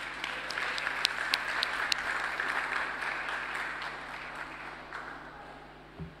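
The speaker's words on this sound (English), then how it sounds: "Can we just have a round of applause for our children's corner team?" Church congregation applauding at a Methodist family service in Barbados, a steady round of clapping with scattered louder claps, moderately close, fading out near the end.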